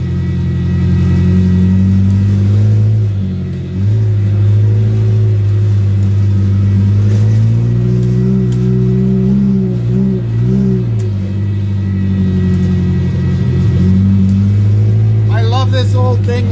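A race car engine that sounds unwell drones loudly and continuously through its final lap, its low tone wavering up and down with throttle changes, heard from close by inside the car.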